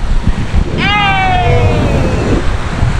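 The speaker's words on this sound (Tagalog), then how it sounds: "Dito kami sa dagat." Surf rolling in at Balagbag beach, a steady broad wash of waves and wind noise throughout, with a short whistle-like tone cutting through briefly in the middle.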